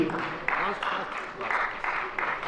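Festival audience clapping at a Rajasthani theatre and folk festival, a dense, steady patter of many hands running the whole time beneath a voice speaking over a loudspeaker.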